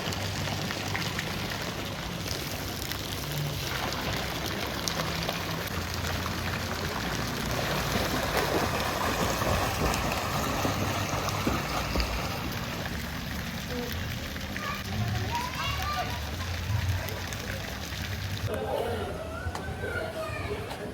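Several people swimming and splashing in an outdoor pool at Mandrem, a continuous rain-like wash of water churning for the whole stretch, with voices chattering and calling over it.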